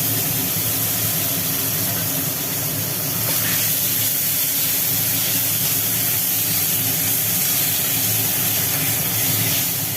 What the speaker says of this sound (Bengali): ম্যাশ করা পেঁপেটা কড়ার মধ্যে ঢেলে দেওয়া হলো